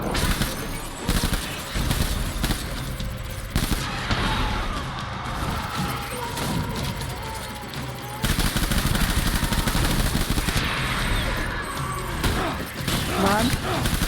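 Rapid video-game gunfire in Death Stranding, loud bursts of automatic and single shots crackling almost continuously with brief lulls, punctuated by impacts and mechanical clatter.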